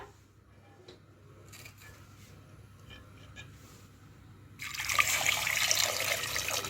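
A faint trickle gives way to a loud, rushing pour of water from a tap into a pot of potatoes nearby, with no speech.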